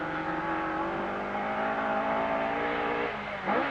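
A 1981 rally car powers out of Four Counties Corner at the Esgair Dafydd rallysprint, its engine droning loud and steady before a quick change in pitch near the end, with no voices over it.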